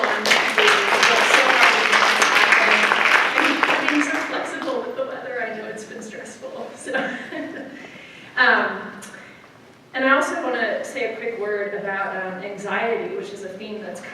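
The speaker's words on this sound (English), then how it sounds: "I think we should give them one more round of applause for everyone who worked so hard to make this happen." Conference audience applauds the organizers, a strong burst of clapping that fades after a few seconds into scattered murmurs and talk from people in the room.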